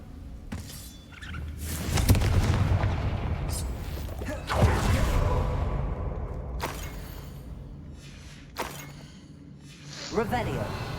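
Confringo spell blasts in the video game Hogwarts Legacy: a series of booming, crackling explosions with shattering debris, several loud bursts over a rumbling game soundscape.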